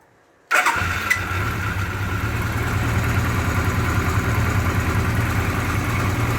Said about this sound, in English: I'm just going to snap that throttle shut, give it one more run.